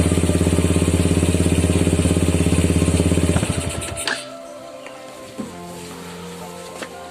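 A Yamaha Jupiter Z motorcycle fitted with a Vega ZR CDI runs with a loud, rapid, even engine pulse for about three seconds, then cuts off into quiet, leaving a few faint clicks and knocks.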